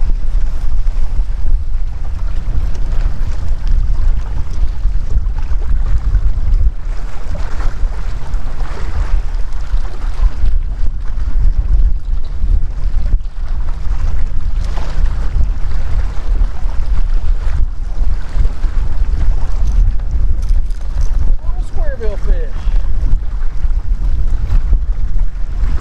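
Strong wind gusts across a rocky lake bank during spring bass fishing, a loud continuous rumble and buffeting with rushing air and faint lapping water throughout, no voices.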